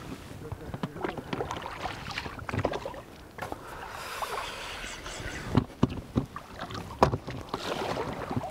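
A one-metre inflatable boat on Dibens lake, Latvia, gives close splashing, sloshing water and scattered knocks and rustles, with wind buffeting the microphone throughout.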